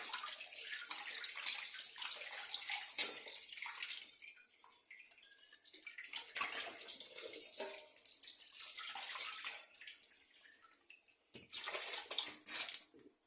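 Water runs and splashes while an oily glass bottle is rinsed and scrubbed, giving close, hissy gushes that rise and fall, with a louder splashing burst near the end.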